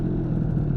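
A tuned scooter engine, running lean, idles with a steady low rumble that stays even and close throughout the brief moment.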